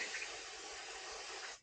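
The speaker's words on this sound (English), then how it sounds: "A little bit of brake clean." A steady, loud aerosol hiss of brake cleaner sprayed onto a chainsaw, one continuous close burst lasting over a second and a half before cutting off, with no voices.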